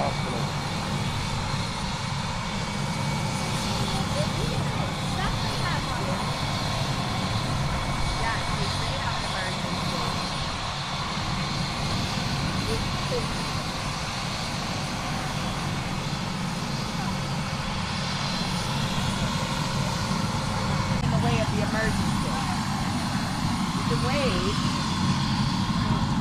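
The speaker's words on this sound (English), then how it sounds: "That guy landed that helicopter." Medflight helicopter landing in a residential neighborhood gives a continuous loud, whining engine and rotor roar, heard from nearby with steady intensity throughout.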